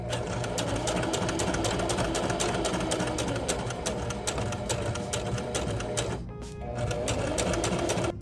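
A sewing machine runs steadily and close, top stitching along the edge of a beginner project, its rapid needle rhythm broken by one short pause near the end.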